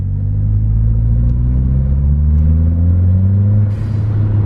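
A Mitsubishi Evo fitted with a GFB Respons blow-off valve pulls hard in second gear, its deep engine rumble climbing steadily in pitch as revs rise, loud and close throughout with no talking.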